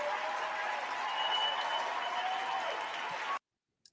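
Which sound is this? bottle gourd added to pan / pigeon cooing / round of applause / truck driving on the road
round of applause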